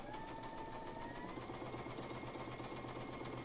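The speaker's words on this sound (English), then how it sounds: "So I'm just sewing on that marked line" A sewing machine stitches along a marked line on fabric for a bat quilt block, a continuous close, even mechanical whir with a fast regular pulse and no talk.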